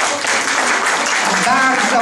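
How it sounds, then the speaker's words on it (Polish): Sustained crowd applause, dense and steady throughout, with a voice faintly audible underneath. "Wielkie, wielkie brawa."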